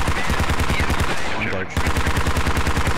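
Machine gun fire in the video game Squad rattles in fast, loud continuous bursts, with a brief pause midway before the rapid automatic firing resumes, close and dominating.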